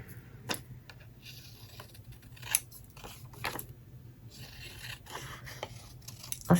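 Scissors snip through glossy magazine paper for junk journal crafting, a few sharp close cuts spaced irregularly over quiet rustling and handling noise, with no talking.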